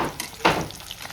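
Paneer frying in a pan at a home kitchen, a soft crackling sizzle with a brief louder burst of spattering, close by and with no talk.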